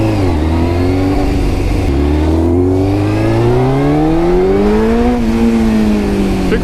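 A 1999 Yamaha YZF600R motorcycle engine accelerates loudly up close, its pitch climbing through the gears with a shift break, then rising again and settling, continuous and without talk.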